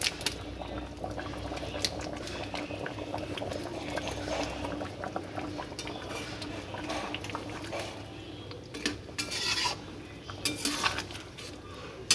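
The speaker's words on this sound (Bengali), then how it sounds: "জল ফুটে গেছে" Water boils in a cooking pot of village-style chicken curry with spices and garam masala, giving a soft, continuous bubbling with occasional faint utensil clinks near the end.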